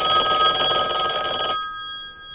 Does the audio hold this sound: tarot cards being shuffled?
no